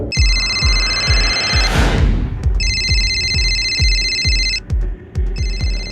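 A telephone ringing in repeated electronic trill bursts, loud and near, with a rhythmic thumping beat underneath, as in dramatic background music, and no voices.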